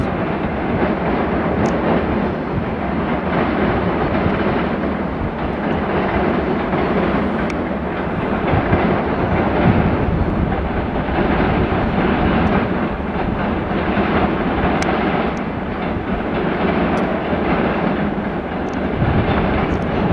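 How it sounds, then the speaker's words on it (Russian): A long-distance passenger train crosses a bridge toward Tikhvin near Volkhov with European-gauge cars in its consist. It makes a steady, fairly distant rumble with faint rhythmic wheel clicks over the rails and no talk. "Вон там через мост в сторону Тихвина пошел поезд дальнего следования по ДП-2К."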